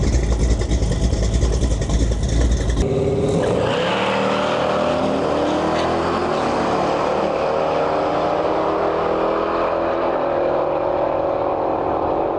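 Bumblebee, a fifth-generation Camaro drag car, rumbles up to the starting line at a race meet, its loud idling engine burbling and revving slightly as it creeps forward, with no talk.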